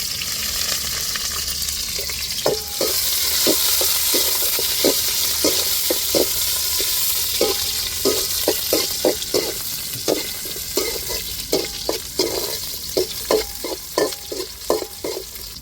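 Onions and chilli fry in a pan for beetroot or carrot rice, with a steady loud sizzle and a long run of crisp, regular spoon taps and scrapes against the pan.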